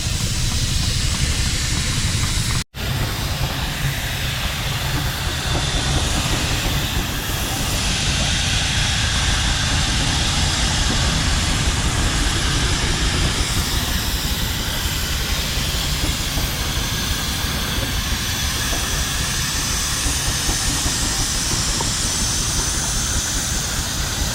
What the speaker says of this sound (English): We run the power off of the big engine to run the little engine